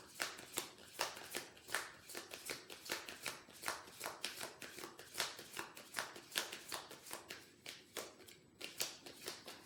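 Playing cards riffled and shuffled repeatedly in quick, crisp bursts at close range, a steady run of sharp flutters with brief gaps and no talking.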